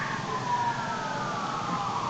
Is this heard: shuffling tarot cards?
no